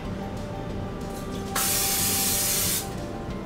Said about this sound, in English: Just gonna use a little bit of Pam.